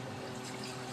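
Water pours into a chickens' water dish in a short, faint, steady splashing trickle with no voices.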